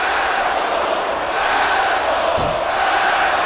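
Wrestling arena crowd roars steadily and loudly throughout, a dense continuous wall of cheering with a brief yell-like burst near the end, likely wrestler Yoshino shouting at the audience.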